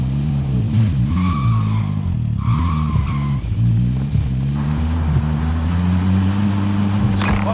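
In the Call of Duty video game, a car engine drones low and steady while tires squeal in short skids, loud and close, with no voices over it.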